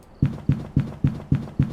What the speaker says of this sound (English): A motherfucker is stomping towards you.